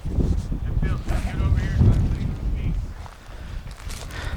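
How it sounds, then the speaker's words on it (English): Wind gusting outdoors on an open hillside, a steady broadband rush with microphone buffeting that swells and eases throughout, while people talk beneath it. "If you get away from the wind, yeah."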